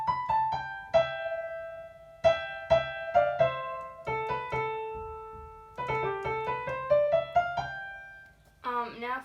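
A theme played on piano as a bouncy melody of short single notes over occasional low bass notes, close and clear, with a brief different tone at the very end.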